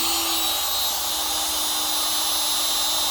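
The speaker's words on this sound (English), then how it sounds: "let's go ahead and turn on our spindle" A milling machine spindle spins up for machining a guitar neck, giving a steady high-pitched whine with a constant tone and broad hiss, continuous and close with no talk.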